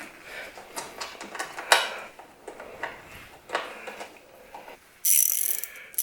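Ratchet wrench tightening a nut on a windscreen brace for a Honda Africa Twin motorcycle, a series of close, quick clicking bursts in uneven runs, ending with a louder, bright rasping stretch.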